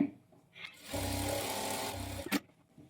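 Sewing machine stitching a canvas border onto a blouse neck edge, one short, fairly quiet burst of whirring stitches followed by a soft click.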